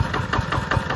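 A small NF 60 single-cylinder diesel engine with injector nozzle runs at idle, a close, rhythmic knocking chug repeating several times a second with no talk.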